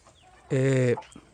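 A hen in a backyard pen shared with a heavy, active rooster gives one drawn-out, throaty call lasting about half a second, close and clear against quiet farmyard background.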